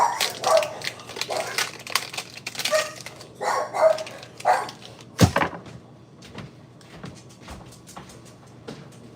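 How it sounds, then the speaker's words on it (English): A dog barks at the rain in short, sharp bursts nearby, several times over a few seconds, followed by knocks and light household clatter. "what are you barking at the rain for, dude?"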